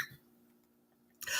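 A man gives a short hacking cough at the start and another rough burst near the end, with a quiet indoor pause between them.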